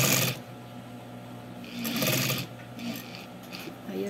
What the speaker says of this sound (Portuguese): eu passo essa costura para ficar mais firme